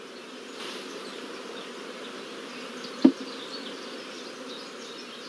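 Honey bees swarming around an open hive during brood chamber work, a steady soft buzzing drone throughout with a single brief knock near the middle, no voices.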